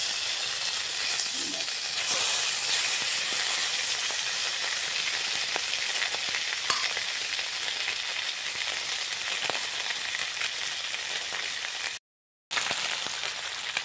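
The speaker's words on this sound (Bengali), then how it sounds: "দেখো ভালো করে তেলে এগুলো ভাজা হচ্ছে, মচমচে করে একদম ভাজা হচ্ছে" Continuous crackling sizzle of headless small fish frying crisp in hot oil, steady and close, with a brief dropout near the end.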